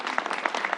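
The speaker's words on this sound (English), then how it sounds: "Tracy Edwards, let's give her a round of applause." Audience applause, a brief burst of steady clapping from a crowd, fairly close and even in intensity.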